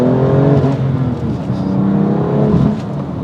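A 2020 BMW M2 CS engine revs under throttle, a loud close growl that swells and dips in pitch through two surges, with no talk over it.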